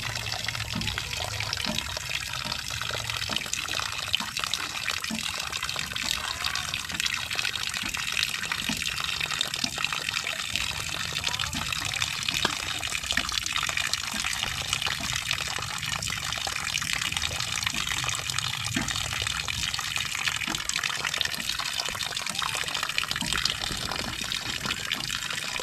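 Water gushes steadily out of a pipe from a homemade deep well with no electric motor, a constant broadband rush that stays close and unbroken for a long stretch, with occasional faint talk underneath.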